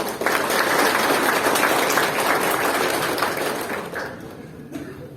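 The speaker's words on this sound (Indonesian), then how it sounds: "Tepuk tangan." Applause from an audience of about 300 university students at the opening of a national seminar, a dense, steady wash of clapping that fills the hall and tapers off toward the end.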